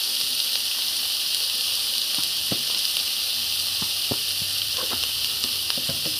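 Onions frying in a pan for Kannada-style egg rice, a dense continuous sizzle and hiss close by, broken by scattered small crackles and spatula taps.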